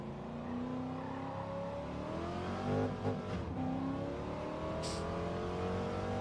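Car engine in Gran Turismo 7 on a time-trial lap, a steady droning whine whose pitch slides up and down through gear changes and braking, loud and continuous with no talk.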